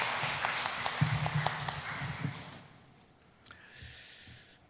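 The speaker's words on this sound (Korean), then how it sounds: "하나님께 영광의 박수 올려드리겠습니다." A church congregation at a Sunday worship service applauds together in a steady, dense wash of clapping that carries for a few seconds and then fades into quieter room sound.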